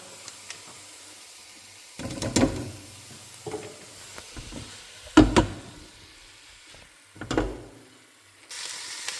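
Red peppers, browned onions and bay leaves sizzling in a pan, a quiet sizzle broken by a few louder bursts of stirring and clattering.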